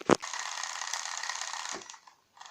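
A motor-generator spinning under maximum load gives a steady whirring, ratcheting mechanical hum for nearly two seconds after a sharp click, then winds down and stops, with a brief faint click afterward.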